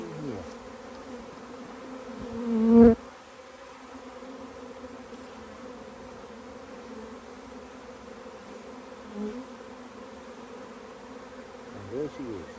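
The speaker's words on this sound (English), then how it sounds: "Just a bunch of bees hanging together." Honey bees clustered on a beehive, a worried swarm gathering, give a steady close droning buzz that holds throughout, with a brief louder swell near the start and no talk.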